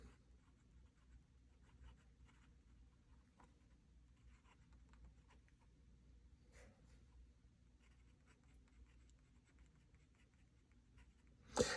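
Faint, soft scratching of an extra fine nib fountain pen writing on paper, close and quiet in short intermittent strokes over a low background hum.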